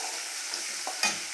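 Oil sizzles steadily in a pan as onions and chilies fry, with a brief stirring scrape near the end.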